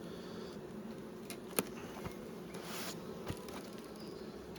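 Buckfast honeybees hum low and steady around an opened hive, a close, continuous drone with a few brief faint clicks and knocks over it.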